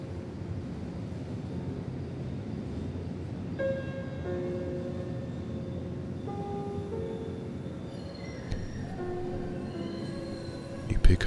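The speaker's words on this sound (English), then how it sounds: "Your train has arrived." A train arrives at a station platform with a low continuous rumble and faint squealing tones from the wheels, then a louder burst at the end, under a calm speaking voice.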